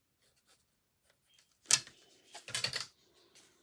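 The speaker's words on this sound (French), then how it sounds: "Je vais faire un trait au crayon à papier." A pencil line drawn on paper while assembling a scrapbook album page, heard as two short scratchy strokes, the second longer and rougher, close and fairly quiet with no talking.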